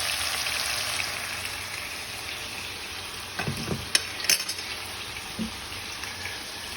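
Pad Thai fries in a pan with a continuous soft sizzle and crackle, heard close, while a few scraping stirs and light clinks of a utensil break through midway, with no voices.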